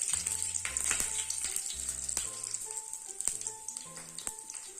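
A bay leaf, panch phoron and a red chili fry in hot oil, giving a close, steady sizzle with light crackles and occasional stirring clicks, alone without talk.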